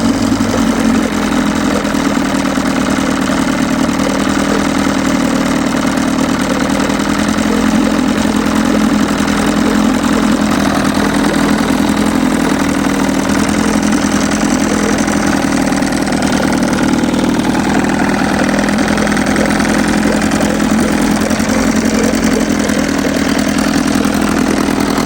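A Johnson/Evinrude outboard motor, newly converted to a fuel pump, runs continuously at a steady, loud idle, its close, even drone unbroken for the whole stretch with no talk.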